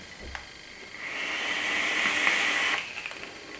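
A long draw on a vape with an Aeronaut atomizer, a steady airy hiss with faint crackle lasting nearly two seconds, close and fairly loud, preceded by a small click.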